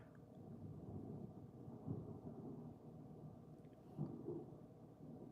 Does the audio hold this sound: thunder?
yes